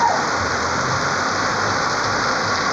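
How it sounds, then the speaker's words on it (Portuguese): Heavy rain gushes from a roof gutter spout in Carnaúba dos Dantas, Brazil, as a loud, constant close-up splashing wash over a downpour, with no one speaking. "Olha aí a biqueira como tá. Derramando água pra valer mesmo."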